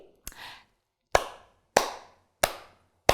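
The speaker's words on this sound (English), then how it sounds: "today I'm going to teach you something called echo clapping." A teacher claps out an echo-clapping rhythm for a grade-one class: five sharp, close hand claps in an uneven pattern, each with a short ringing decay, over a quiet room.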